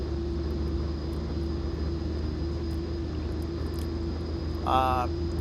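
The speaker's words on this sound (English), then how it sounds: "I just love the way the Coronado engines sound powering up." Pilatus PC-12 turboprop engine in the X-Plane 11 flight simulator, a steady loud droning hum with a low rumble that holds evenly throughout, with a brief higher tonal blip near the end.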